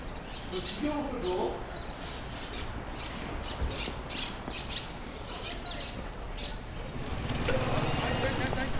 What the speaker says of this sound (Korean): 서대전역도 이른 시간에는 아침을 깨우는 새소리만이 들리는군요